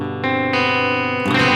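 A sustained, clashing electric chord rings out in layers, notes entering one after another, two a half step apart buzzing and grating against each other in a tense, dissonant blend.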